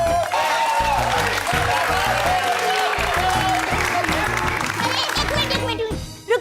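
Audience applause on a comedy television set, a dense wash of clapping running throughout under continuous music and voices, fading slightly near the end.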